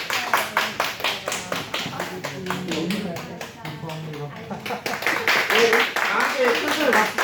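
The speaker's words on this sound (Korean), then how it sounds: "우리 박수로 한번 축복해 주시죠" Church congregation at a Sunday worship service clapping to bless an elder, with rhythmic, evenly spaced claps close by and voices talking over them.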